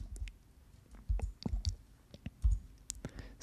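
Computer keys are typed in a quiet room, with light, irregular clicks scattered over a few seconds.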